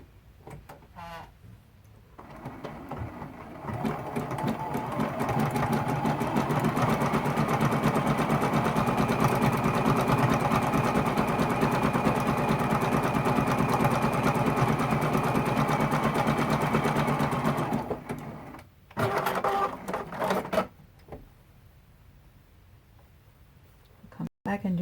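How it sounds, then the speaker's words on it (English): A sewing machine runs a zigzag stitch across a quilt, humming steadily and loud in a long continuous run with a fast mechanical patter, stopping, then a short second burst, with a voice speaking before and after. "I'm ready to come in and do the zigzag stitch"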